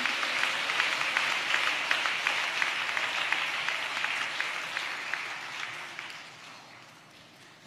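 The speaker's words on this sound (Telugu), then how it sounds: "చప్పట్లు కొడుతూ ప్రభు వారికి స్తోత్రాలు చేద్దాం" A church congregation claps together in praise during a Telugu worship service, a dense, steady patter of many hands close by that runs for several seconds before easing off slightly at the end.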